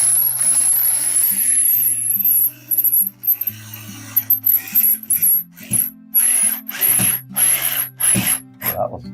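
Flathead screws being driven into wall plates with a ratcheting tool produce rapid mechanical clicks and grinding bursts, loud and close, in irregular spurts with short pauses between.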